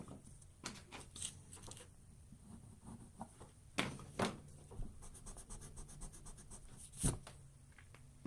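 A pencil sketch on paper is erased by hand, giving quiet, close rubbing and scratching strokes in irregular bursts with short pauses between them, and no voices.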